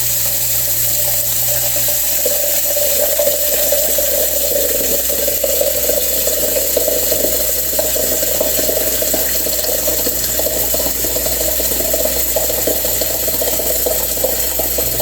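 Tap water running steadily into a container after it has been rinsed of soap, a continuous close splashing rush with a faint rattle and whirring hum underneath, loud and unbroken throughout.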